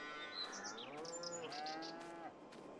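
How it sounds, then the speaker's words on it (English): Several cows moo in a farming video game, long drawn-out lowing calls overlapping one another at steady volume across the whole stretch, with no talk over them. "lots of hungry cows around here, I bet."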